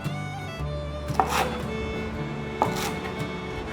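A knife chops enoki mushrooms into short pieces on a board, two distinct chopping thuds standing out over steady background music.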